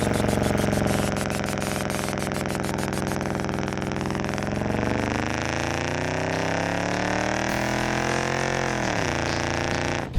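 A 2007 Ford Crown Victoria police car's 4.6 V8 runs loud and close, its harmonic engine note rising steadily through a long rev before dropping sharply near the end.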